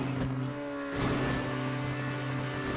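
A car engine in the video game GTA V hums and surges as the throttle is eased off and back on, a brief dip then a renewed rise, steady and close.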